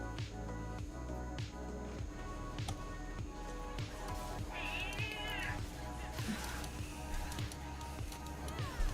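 Pet cat meowing indoors, a couple of short mid-pitched meows over a busy, rhythmic music or game background, no speech.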